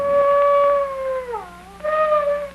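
A dog in a film gives a long, loud, wavering howl that dips in pitch, pauses briefly, then rises again, close and clear with no talking.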